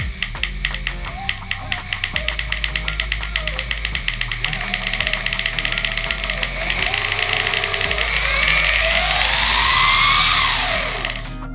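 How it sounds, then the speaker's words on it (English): An electric skateboard rolls with something knocking against its wheel, a rapid steady clacking under the motor's hum that climbs into a rising whine as it accelerates, close and fairly loud. "you can hear that there is something is hitting the wheel"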